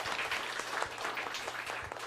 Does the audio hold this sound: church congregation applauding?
yes